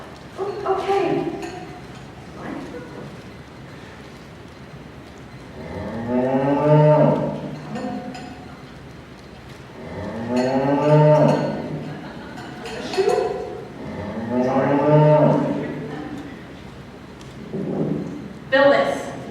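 A cow in a high school stage production of Into the Woods gives three long, drawn-out moos spaced several seconds apart, loud and close, with actors talking between them and light clinks and thuds.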